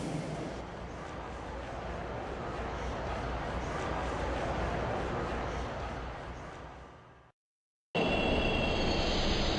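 A train pulls into Yoyogi Park station in the Shin Megami Tensei 3 video game, a loud sustained rumble of rolling wheels and carriages that fades, cuts to silence, then resumes with a high tonal hum.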